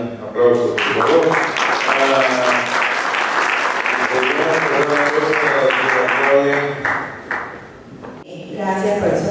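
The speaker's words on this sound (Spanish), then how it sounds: "Aplausos, por favor." Applause from a university lecture audience plays under a steady, prominent voice, with music-like tones, and the clapping dips briefly near the end before resuming.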